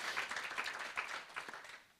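Moderate applause from an audience at a high-level apprenticeship event, a brief, fairly quiet patter of clapping that fades toward the end.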